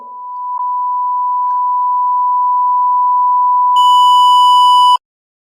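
A pure electronic test tone holds steady at one pitch and swells gradually louder over several seconds, then cuts off abruptly, with no voices.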